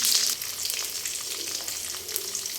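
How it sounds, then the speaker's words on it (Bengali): Chopped onion frying in oil in a hot wok, a steady loud sizzle with crackling pops running through the whole stretch, with no voice over it. "এখন আমি দিয়ে দিব হাফ টেবিল চামচের 1 চামচ তেল, দিয়ে দিব 2 টেবিল চামচ পেঁয়াজ কুচি"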